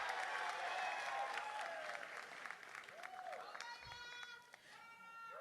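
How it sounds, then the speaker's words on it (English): A large graduation audience in a hall clapping and cheering, broad sustained applause that fades somewhat, with voices and shouts mixed in, some rising whoops near the end. "there were tons of parents clapping and celebrating, just like they are tonight"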